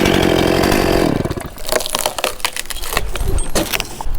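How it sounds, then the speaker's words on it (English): A large chainsaw roars loudly at full throttle for about a second as it cuts through a tree limb, then drops off, leaving sharp cracks, clatter and knocking of wood and debris. "this bigger chainsaw so I can cut this whole piece off right here"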